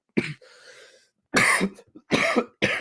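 Several harsh coughs close up, one followed by a raspy wheeze, then two more forceful coughs in quick succession.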